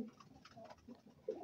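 A faint, low pigeon coo rises and falls softly in short murmuring phrases, close but quiet.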